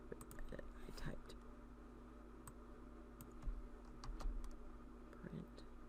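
Someone types on a computer keyboard while working in Excel, giving faint, scattered clicks and taps in quiet bursts over a low steady hum, with soft muttered speech in places.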